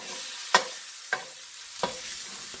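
A spatula scrapes a pan of frying Steak-umm meat three or four times, each stroke a short crisp rasp over a steady close sizzle, with no talk.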